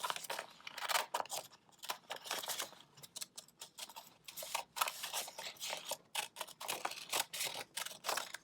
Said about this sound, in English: So I'm going to start by cutting out the outline.